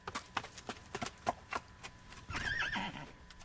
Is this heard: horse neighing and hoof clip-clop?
yes